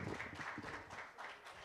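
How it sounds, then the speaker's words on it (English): Audience applause at a public service media symposium, a brief burst of many hands clapping in a conference room, fairly quiet and continuous with pulsing swells. "Round of applause again, please."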